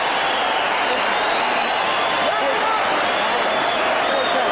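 A standing boxing crowd at Caesars Palace roars and applauds during the 1989 Holyfield vs Dokes heavyweight bout, a thick, continuous wall of noise from a large arena that stays loud throughout.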